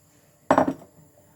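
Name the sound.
egg being added to a pan for an omelette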